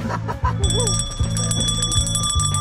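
A street vendor's bell rings in rapid, steady trills close by, layered with sustained ringing tones and a pulsing low background.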